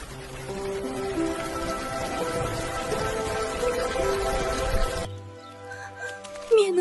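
Rain patters steadily in an animated story, with light drops spattering under a musical score before the rain cuts away and soft melodic tones continue.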